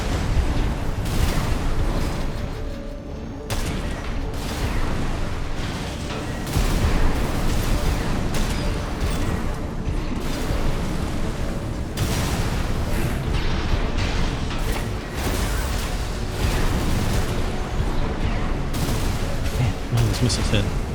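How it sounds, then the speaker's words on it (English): Missiles explode in a mecha video game, a dense, continuous barrage of loud booming blasts and crackling impacts that overlap steadily for about twenty seconds, with a voice speaking under the din. "Man, this missile's hit."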